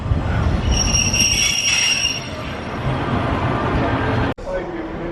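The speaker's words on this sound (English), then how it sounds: "here comes the train non-stop to Bolton" A train runs non-stop through a station near Bolton, a loud continuous rumble of wheels on rail with high squealing tones, while people talk over it before a sudden cut.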